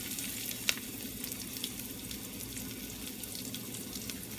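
Thinly sliced onions fry in oil for potato kurma, a steady close hiss and crackle running without a break, with one brief sharp tick early on and no talking.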